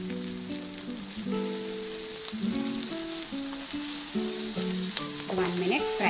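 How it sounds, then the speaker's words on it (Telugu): Ginger garlic paste fries in a pan with a steady close sizzle and occasional stirring scrapes, while gentle background music plays underneath throughout. "ఫ్రై చేసుకున్నాము."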